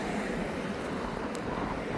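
Steady roaring wind buffets the microphone, a constant broadband rush with no voices.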